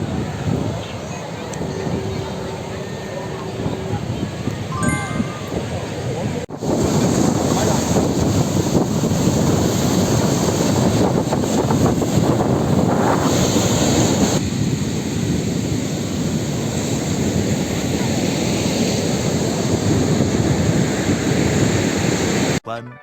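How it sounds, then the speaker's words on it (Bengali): Early-morning sea breeze and surf on the beach at Puri, a continuous roar of wind buffeting the microphone over breaking waves, loud and steady throughout. "সকাল সকালে সমুদ্রের পাড়ের হাওয়াটা জাস্ট অসাধারণ লাগছে।"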